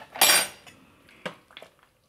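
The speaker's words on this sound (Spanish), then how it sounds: "ahora pasaremos por un colador" Apple and carambola juice being strained through a sieve, with a sharp metallic clatter of a utensil against a strainer or bowl, then a few lighter clinks and taps, close and clear with no talking.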